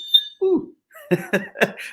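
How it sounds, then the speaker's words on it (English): A fire alarm test in a building gives a brief high electronic beep at the start, followed by a person speaking nearby. "there is a fire alarm test today, and I was hoping it's not happening during the show, but apparently it is. So my apologies for this weird beep."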